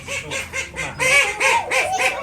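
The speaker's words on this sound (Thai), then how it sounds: "เป็ดอยากกินอาหารเป็ด" Ducks at a cafe quacking and honking for food, a loud close run of about eight repeated nasal calls in a steady rhythm.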